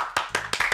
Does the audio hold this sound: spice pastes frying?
no